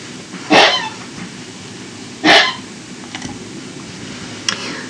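A dog gives two short, sharp barks a couple of seconds apart, then fainter yips follow over a steady background hiss, with no talking.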